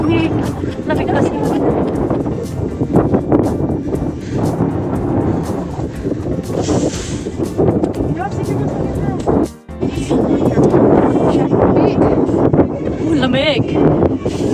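Strong wind on Pyramid Hill in Ma On Shan, Hong Kong, on a foggy, cold hike, roaring into the microphone as continuous loud buffeting with a brief dip partway through.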